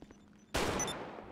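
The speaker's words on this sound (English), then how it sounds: "What the fuck you shooting at me for?" A single loud gunshot goes off in GTA 5 during roleplay, a sharp broadband crack with a reverberant tail that lingers for almost a second.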